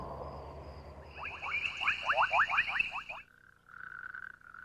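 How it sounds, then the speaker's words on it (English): A male coqui frog gives its two-part call, a rapid series of loud, close chirping notes followed by a steadier higher tone, over a busy night-chorus background. "The male coqui frog has a two-part call"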